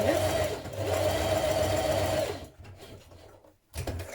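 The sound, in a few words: sewing machine straight-stitching around a curve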